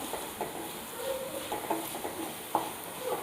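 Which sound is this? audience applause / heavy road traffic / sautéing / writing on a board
sautéing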